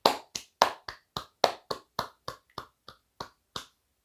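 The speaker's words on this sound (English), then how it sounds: "giving yourself a round of applause" A small group gives themselves a round of applause at the end of a meditation, producing about a dozen sparse, distinct, close claps in an uneven rhythm. The sound is fairly quiet and no one speaks.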